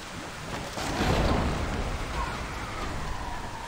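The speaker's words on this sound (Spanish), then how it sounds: "parece que hay tragedia porque está lloviendo, hay truenos" Steady rain and a low rumble of thunder in the video game Eternal Hope, a continuous wash of downpour that swells early and holds on without voices.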